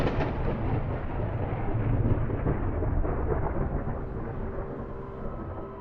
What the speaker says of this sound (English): some time passes and I assume we're gonna hear the thunder